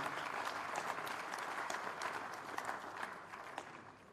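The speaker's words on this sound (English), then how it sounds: "Applause for the Chairman." Audience applause at a university convocation, a dense, even patter of many hands heard at a distance and fairly faint, easing slightly toward the end.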